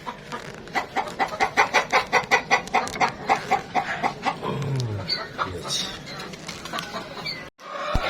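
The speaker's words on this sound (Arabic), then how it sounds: "الدجاجة هنا كاينة قارقة، هي رزات بيضة." A broody hen in a rooftop coop, about to lay, clucks loud and close in a fast rhythmic series, then gives looser calls while a person speaks briefly nearby.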